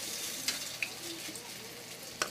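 Okoy fritters fry in hot oil in a pan, giving a steady close sizzle with a few sharp pops and crackles, no talking.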